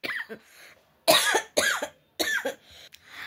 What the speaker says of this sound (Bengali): ভীষণ কাশি লেগে গেছে আবার